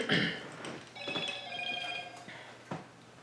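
A telephone rings with a steady electronic tone repeating over about a second and a half, fairly close and moderately loud, with a few soft thumps before and after it.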